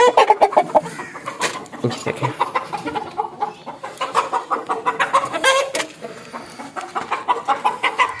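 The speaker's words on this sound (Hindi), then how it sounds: "ये हमारे दो मुर्गे बहुत लड़ना शुरू हो गए हैं" Two roosters fighting in a poultry yard where hens are fed tea waste, with a busy run of clucks, squawks and bursts of flapping, while someone talks over the birds throughout.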